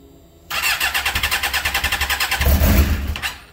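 A Suzuki GSXR600 sport motorcycle, running on stabilized fuel after winterizing, is started: a rapid rhythmic starter crank for about two seconds, then the engine catches with a loud, close burst before settling.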